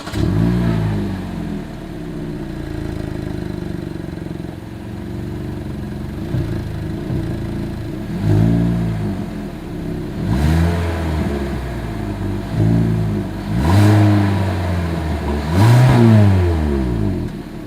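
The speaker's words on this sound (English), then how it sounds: "Here is that exhaust clip." A 2023 Hyundai Elantra's exhaust is heard while the engine idles and is revved several times, each blip rising and falling, loud and close from behind the car, with no talking.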